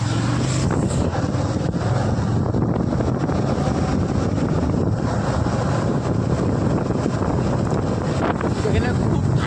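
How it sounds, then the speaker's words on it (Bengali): Cold wind blowing hard outdoors near a roadside, a loud, constant roaring rush buffeting the microphone without letup. "এখানে খুব ঠান্ডা হাওয়া চলছে আজকে"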